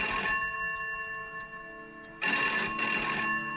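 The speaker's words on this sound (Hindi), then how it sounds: "और तभी कमरे का फोन बजा" A room telephone rings with an electronic bell tone, one ring fading before a second ring starts, fairly faint.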